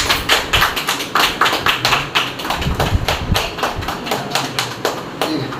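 A small group claps hands at a birthday gathering, a dense run of sharp overlapping claps that goes on steadily and sounds close.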